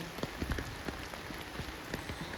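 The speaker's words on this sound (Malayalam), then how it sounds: "വീട്ടിൽ നിന്ന് ഇറങ്ങുമ്പോഴേ മഴയായിരുന്നു ചാറ്റൽ മഴ ഇങ്ങനെ ഉണ്ട്" Light drizzle patters steadily on surfaces outdoors near a temple ground, a soft, even spray of fine drops with scattered small taps.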